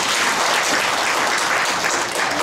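Dense, steady audience applause at a Korean leadership conference on President Lula, filling the space evenly at close range with no talk over it.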